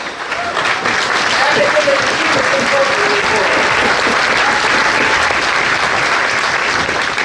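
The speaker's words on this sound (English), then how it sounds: "It's okay to applaud." Sustained, dense applause fills a large hall at a graduation ceremony, many hands clapping steadily and loudly for the full stretch without pause.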